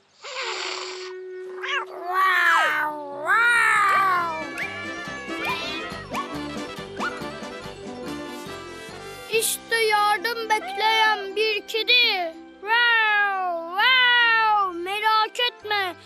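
A cartoon kitten in an animated children's show meows repeatedly in high, wavering cries over a busy musical background, the mews rising and falling in quick succession.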